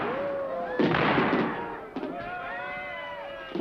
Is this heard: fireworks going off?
yes